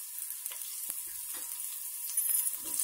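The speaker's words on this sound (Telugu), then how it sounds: "1 స్పూన్ ఆయిల్ వేసి ముందు ఆనియన్స్ కొంచెం పల్చగా కోసుకున్న 1 ఆనియన్ ఇలా వేయించండి" One thinly sliced onion frying in a spoonful of oil in a pan, a soft, high, steady sizzle with a few faint stirring taps.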